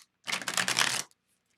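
A tarot deck being shuffled once in a quick riffle, a close, crisp burst of rapid card flutter lasting under a second before stopping.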